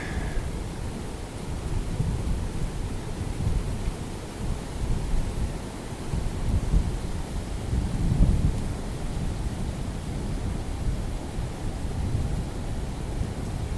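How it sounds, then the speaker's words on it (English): Steady rain hisses continuously across a river in the Amazon, with a low rumble of thunder swelling around the middle before settling back into the downpour. "It's raining right there, just across the river."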